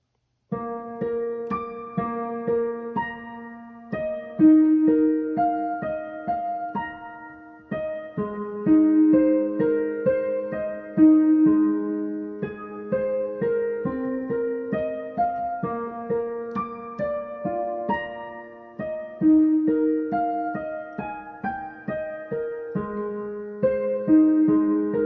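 A piano plays the intro to a song, a steady stream of clear melodic notes over repeating bass tones, close and solo with no voices.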